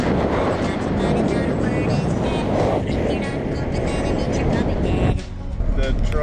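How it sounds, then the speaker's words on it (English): A 2006 Chevy Colorado four-cylinder pickup drives under a heavy load, a loud continuous engine and road roar with wind noise that stays steady, dipping briefly near the end. "Chevy Colorado 2006 four cylinder. Probably a little small to be doing this kind of work"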